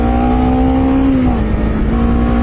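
Honda CBR 250RR motorcycle engine during a slow U-turn, a loud steady buzzing drone heard close from the rider's position, pitch dipping slightly mid-turn and then recovering.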